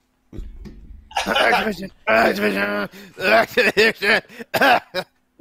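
A rough cough bursts out near the start, followed by a voice talking quickly and a little strained.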